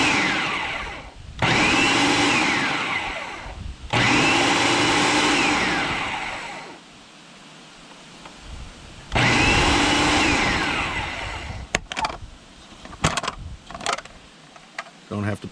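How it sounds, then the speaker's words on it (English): A food processor roars in two bursts, about 1 to 4 s and 4 to 7 s, while it chops smoked tomatoes and vegetables for salsa. A third burst runs from about 9 to 11 s, then clattering and handling noises follow. "we're going to go ahead and run it through a food processor real quick"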